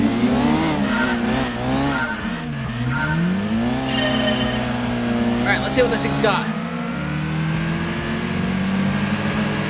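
A racing car engine in the video game Gran Turismo 2 revs and shifts up and down continuously while tires squeal, with someone talking briefly over the engine noise.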